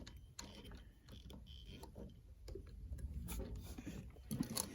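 Sewing machine stitching custom truck seat upholstery, slowly working single stitches forward and back: a sequence of soft mechanical clicks and ratcheting taps over a low hum, irregular and close, quiet throughout.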